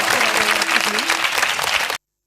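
A crowd of students bursts into loud, dense applause at a rankers' meet, a continuous wash of clapping with faint cheering voices woven through it, which cuts off abruptly after about two seconds.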